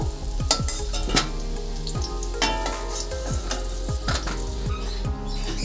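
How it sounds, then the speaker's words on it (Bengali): Pumpkin frying in hot oil in a Bengali home kitchen, a continuous loud sizzle broken by repeated scraping clinks of a spatula against the pan. "হালকা করে এরকমই ভাবে ভেজে নেব কুমড়ো"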